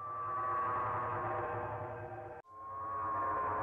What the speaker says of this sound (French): Peut-être que c'est le cri de la planète?